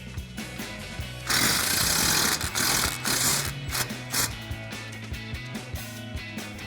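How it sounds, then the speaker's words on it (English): A rapid, loud rattling burst from an impact wrench with a 15mm swivel socket and extension works a sway bar end link bolt on a 2016-2024 Camaro, followed by quieter intermittent mechanical clicks and knocks. "we're going to remove this bolt using our 15mm swivel socket and extension on our impact"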